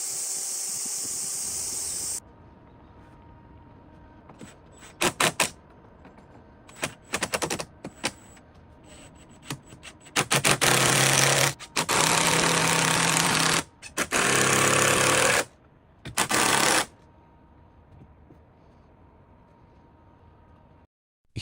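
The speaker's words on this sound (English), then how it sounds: "He is aligning the corrugated sheets with a guide string and securing them tightly with screws" Power screwdriver driving screws to fasten corrugated metal roof sheets onto a wooden frame, several loud whirring bursts of one to two seconds with quiet gaps between, near and alone.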